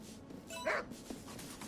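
A beagle in the video game Tokyo Jungle gives a single short bark or yelp amid quiet game ambience, moderately loud and alone.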